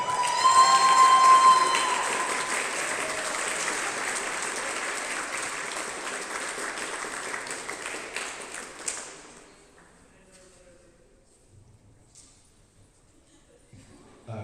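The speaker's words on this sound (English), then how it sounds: "Would you please give a warm round of applause to Farida Mohammed?" Loud applause from a crowd at a squash tournament final fills the room, steady for several seconds, then fades away into near silence.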